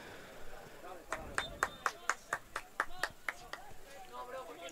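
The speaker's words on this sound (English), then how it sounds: "Perafita getting a captain's applause from his bench." Bench players clapping for a substituted player at a men's college soccer match, a run of about a dozen crisp claps heard faintly under commentary.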